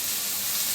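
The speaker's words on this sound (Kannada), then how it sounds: "ಹೈ ಫ್ಲೇಮಲ್ಲಿ ಬೇಡ, ಮೀಡಿಯಮ್ ಫ್ಲೇಮಲ್ಲಿ ಈ ಥರ ಫ್ರೈ ಮಾಡ್ಕೊಳ್ಳಿ" Tomatoes and mixed vegetables frying in a pan over a medium flame for Maggi noodles give a steady, close, hissing sizzle that holds at an even level throughout.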